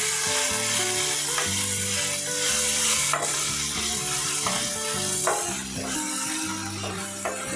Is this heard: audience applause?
no